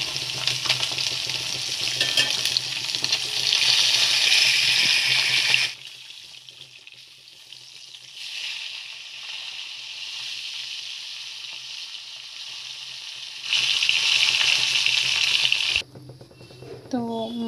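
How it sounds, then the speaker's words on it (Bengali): Chital fish pieces fry in hot oil with two loud bursts of crackling sizzle. A much quieter stretch separates them, and the sizzle drops away sharply at the end. "তো চলো মাছগুলোকে একটু ভালো করে ভেজে নিই।"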